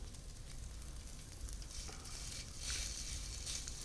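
Meat sizzling on an oiled hotpot grill pan at home, beef and pork frying in a steady close crackle that swells slightly louder toward the end, with no talking.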